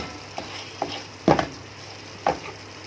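Alexandrian-style liver fries in a pan with a low, steady sizzle, broken by a few sharp scraping knocks of stirring spaced irregularly, near and moderately loud.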